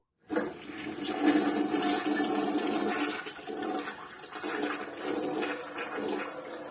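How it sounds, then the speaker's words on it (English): A toilet flushes after its tank fittings are replaced, with the tank lid in place: a sudden loud rush of water that surges, swirls and gradually eases into a steadier refill hiss, close and without talk. "Now, let's see if we can make a successful flush."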